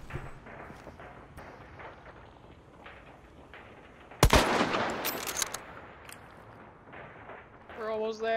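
Gunfire in a multiplayer shooter game, with a Mosin rifle in play, erupts as a sudden loud burst of shots mid-clip, preceded by quieter ambient game sound; a voice is heard near the end.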